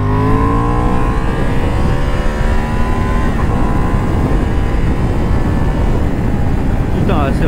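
A restricted A2 four-cylinder Honda Hornet motorcycle accelerates hard, its engine revving up in rising sweeps, loud and close, then a fresh climb near the end.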